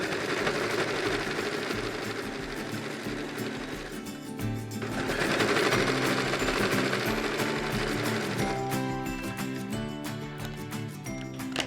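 A sewing machine runs a straight stitch along the strap of a homemade insulated baby-bottle holder. The motor hums steadily and close, in continuous bursts with a brief slowdown midway, and no one talks over it.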